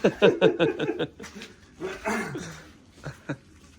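Dogs bark in a quick run of sharp barks at the start, followed by someone talking and chuckling nearby with a few more scattered sounds.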